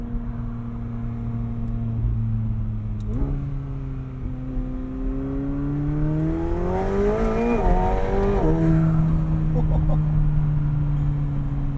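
A 2020 McLaren 720S Spider in track mode with the rear window down, its engine note rising steadily under acceleration through gear changes, close and continuous inside the cabin.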